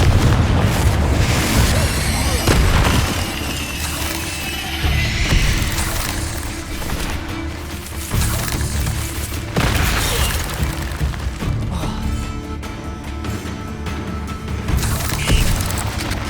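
A Confringo explosion spell in Hogwarts Legacy, with loud booming blasts layered over dense, continuous game combat noise that barely lets up, and several strong bursts rising above the mix.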